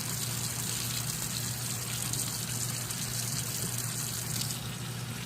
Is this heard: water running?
yes